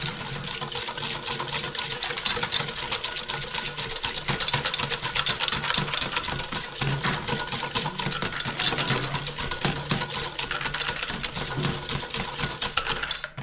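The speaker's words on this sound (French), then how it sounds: "Et nous allons commencer à fouetter de manière bien énergique." A hand whisk beats a sabayon of egg and sugar energetically in a bowl, a fast, steady clattering rhythm that stays loud and close without pause for over ten seconds.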